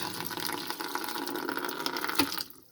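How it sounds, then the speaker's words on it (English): Water pours from a tap into a bucket for making sauerkraut, a steady close gushing splash that runs for a few seconds and then cuts off abruptly near the end. "put the water in the bucket"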